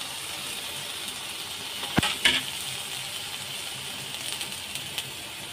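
Tomatoes go into dhaba-style spinach masala frying in a pan, bringing a constant close sizzle with a couple of sharp clatters early on and light stirring noises after.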